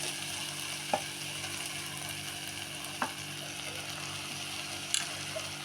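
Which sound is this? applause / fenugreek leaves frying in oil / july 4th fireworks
fenugreek leaves frying in oil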